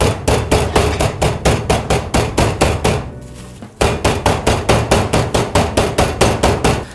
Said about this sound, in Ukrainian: та відбиваємо його молоточком.